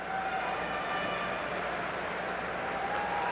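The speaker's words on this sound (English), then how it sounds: "And there's the siren to end the first period of play." An ice hockey arena siren sounds to end the first period of a 1981 Canada Cup semifinal between the USA and Canada, a sustained steady tone held throughout over constant crowd noise.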